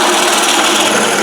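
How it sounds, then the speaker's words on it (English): A power drill bores a hole through the wooden cover of a tapered Conibear trap box for bobcats and raccoons, giving a loud, steady, close-up grinding whine that runs without break. "all you do is just flip it over and drill the other hole."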